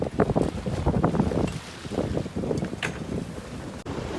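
Strong gusty wind, gusting 35 knots and sustained 29, buffets the microphone on a sailboat at sea over rushing water and boat noise, loud and continuous with uneven surges.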